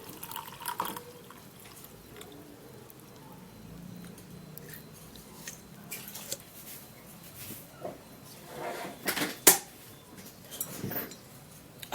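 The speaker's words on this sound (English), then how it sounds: "what we'll do now is to strain out the water." Water being strained from brewed homemade tea: liquid pouring and dripping at low volume, with scattered clinks and splashes growing busier toward the end; no talking.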